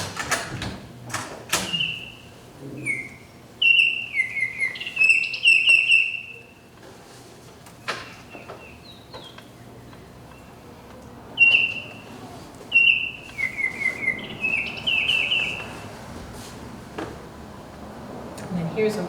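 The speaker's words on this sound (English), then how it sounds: "So here's a tone. This is a Baltimore Oriole." Clear whistled Baltimore Oriole song phrases, several short bursts of rich, slurred notes repeated through the clip over a faint outdoor background.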